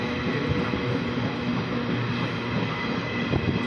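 A long-distance train from Rajasthan to Sealdah rolls slowly along the rails, a steady rumbling drone with faint rhythmic clatter, heard from on board without talk.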